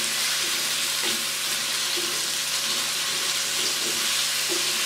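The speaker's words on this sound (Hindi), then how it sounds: "सिर्फ टिंडे फ्राई करेंगे और इनको हमने अच्छे से फ्राई करना है" Round gourds (tinde) frying uncovered in a pan over medium heat, a steady soft sizzle with occasional scraping of a stirring spoon, no voices.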